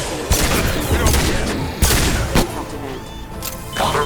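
Heavy gunfire in Mass Effect 2 during a Reaper IFF mission, loud close volleys with sharp bursts and blasts layered over a dense, sustained crackling barrage.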